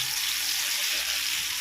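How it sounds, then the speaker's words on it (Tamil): Chicken pieces fry in hot oil, giving a close, dense and continuous sizzle that holds steady throughout the short stretch, with no talking over it. "இப்போ வந்து சிக்கனை வறுத்துக்கலாம்."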